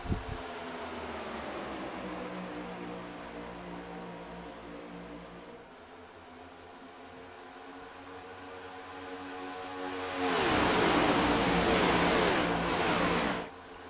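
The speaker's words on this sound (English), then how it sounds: "I absolutely love the sound of these next-gen Cup cars" NASCAR next-gen Cup cars roar past at Daytona International Speedway in a continuous engine drone, swelling into a loud, close pass near the end before fading slightly.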